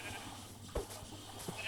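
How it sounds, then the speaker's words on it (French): Cursed sheep in a horror video game let out a faint, brief bleat amid quiet eerie ambience, with a couple of soft short cries. "Ah, je crois qu'il y a des moutons maudits dedans."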